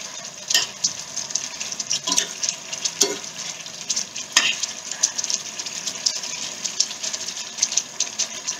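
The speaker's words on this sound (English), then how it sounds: "Now we shall add the fried potatoes to the curry." Fried potatoes being stirred into a simmering Kashmiri dum aloo curry in a pan, giving a steady sizzle with soft scraping and clinking stirs throughout, close and moderately loud.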